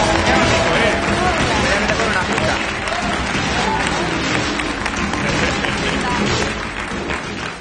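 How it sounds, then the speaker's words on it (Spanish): A television studio audience applauds and cheers for Danko, a retired police dog, with loud, dense, sustained clapping mixed with crowd noise that eases slightly near the end. "un aplauso para él"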